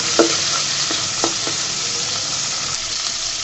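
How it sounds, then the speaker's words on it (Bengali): Tomatoes softening in hot oil in a pan for a fish and potato curry hiss with a steady, close sizzle, broken by a few light clicks of a utensil early on. "তেলের মধ্যে টমেটোটাকে সুন্দর মতো গলিয়ে নেব"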